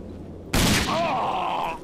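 Gunfire in the video game Rage: a loud, sudden burst of shots with a broad crack and a sustained roar after it, over a quiet start.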